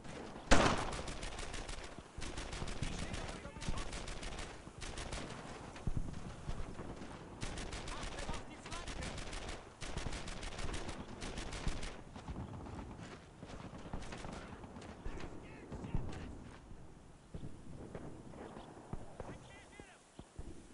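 Suppressing gunfire in the shooter game Earned in Blood: rapid bursts of rifle and machine-gun shots crackle repeatedly, loud and near at first, then thinning into more scattered shots, with shouting voices mixed in.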